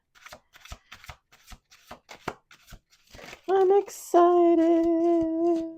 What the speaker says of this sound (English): I think that was the second shuffle